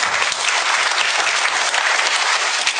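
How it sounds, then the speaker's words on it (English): Audience applause at a talk: a dense, loud, even wash of clapping from a crowd that holds steady throughout, with no voices over it. "So can you clap your hands for them, please?"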